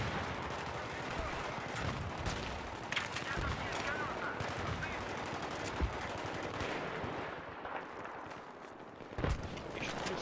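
Rapid automatic gunfire and scattered shots from the video game Battlefield 3 crackle continuously through the scene in dense bursts, with someone talking intermittently over the combat noise.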